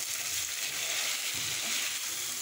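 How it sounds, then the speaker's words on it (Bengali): Fried cauliflower and potato pieces are tossed with spices in a hot pan, sending out a continuous, close, even sizzle with faint stirring underneath. "কয়েক সেকেন্ড মশলার সঙ্গে নেড়ে চেড়ে দিতে হবে"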